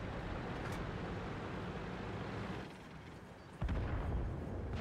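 M46 Patton tank firing in a video game: low, rumbling engine and battle noise with a sharp, heavy gunshot boom near the end, loud and close.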